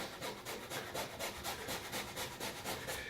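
Fresh ginger rubbed over a hand grater in quick, even back-and-forth strokes, a soft rhythmic rasping that repeats about five times a second, close and fairly quiet, with no talk.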